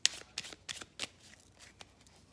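Tarot cards being handled and drawn during a pick-a-card reading, several quick papery snaps and flicks in an uneven rhythm, close and fairly soft, with no talking.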